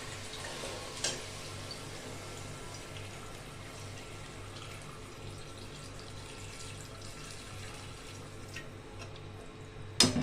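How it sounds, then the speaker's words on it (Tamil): Water runs in a steady, soft stream as it is poured into a pot of one-pot sambar, a continuous gentle splashing heard close by in a quiet kitchen, with a small clunk at the end. "இதுக்கு தேவையான அளவுக்கு நம்ம இப்போ தண்ணி விட போகிறோம்."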